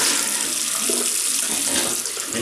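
Tap water pours steadily into a bathroom sink while a face is rinsed after shaving, a continuous close splashing rush that carries on throughout with no talking.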